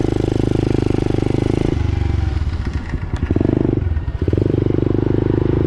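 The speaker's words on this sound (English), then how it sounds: "Let's go for a little spin on this one. This will be more of the true pit bike size." Small SyxMoto pit bike engine revving steadily during a test ride, loud and close, with a brief throttle dip midway before the drone picks back up.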